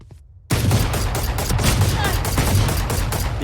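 Sustained rapid handgun fire in the video game Valorant, a dense loud string of shots that cuts in abruptly after a faint moment and continues without pause.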